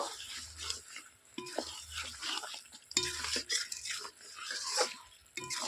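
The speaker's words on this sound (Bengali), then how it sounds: "এরম অল্প অল্প জল দেব আর নাড়িয়ে দেব মাংসটা মশলার সাথে।" Mutton with spices is stirred in a pot as a little cold water is added, giving repeated scraping strokes of a spoon with light sizzling and clinks, fairly quiet and close.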